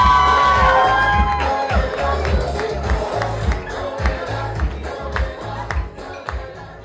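Concert audience cheering loudly with whoops and shouts over pulsing low music from the stage, a sustained crowd roar with scattered clapping running through the whole stretch.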